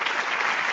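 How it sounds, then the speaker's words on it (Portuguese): An audience claps at a talk on family holding companies, a brief, dense burst of steady applause close by with no voices over it. "Mais palmas. Vamos, gente."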